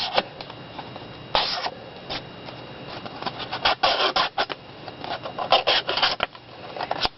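Scissors drawn along strips of cardstock to curl a paper tassel produce scraping, rasping strokes in irregular bursts, some loud and close, with quieter rustling of paper between them.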